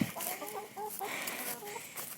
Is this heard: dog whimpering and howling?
no